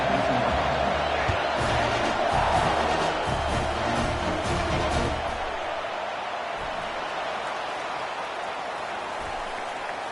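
A stadium crowd in a Madden football video game roars loudly and steadily at a Texas A&M kickoff, then eases to a lower, sustained crowd rumble.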